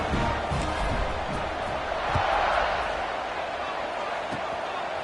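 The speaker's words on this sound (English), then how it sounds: "this crowd is buzzing after that last score" A football stadium crowd buzzes after a score, a dense steady roar of many voices with scattered shouts, continuous and loud throughout.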